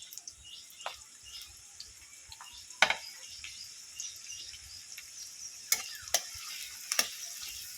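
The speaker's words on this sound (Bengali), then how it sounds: "আজকে সর্ষে তেল দিয়ে বানাবো পেঁয়াজ দিয়ে দেবো" Onion frying in mustard oil in a wok, a soft steady sizzle close by with occasional sharp clicks and taps of stirring, fairly faint overall.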